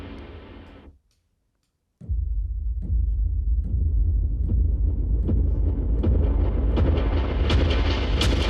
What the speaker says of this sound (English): some really cool pulsing sounds with some of these booms or slams